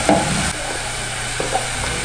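Chopped onion sautés in olive oil with a steady, close crackling sizzle. A brief brighter scrape or pop comes at the start and no one speaks.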